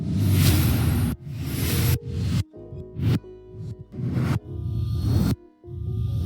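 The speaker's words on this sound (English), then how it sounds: "and of course we've got whooshes," Whoosh sound effects from a motion graphics sound bundle: a run of roughly eight quick, airy swooshes and swishes, loud and close, one after another with brief pauses between.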